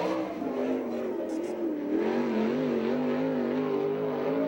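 A Maxim 360 sprint car with a Garrity engine, an open non-wing sprint car, accelerates at the green flag on a dirt oval, its steady rising engine drone heard from a distance, alone.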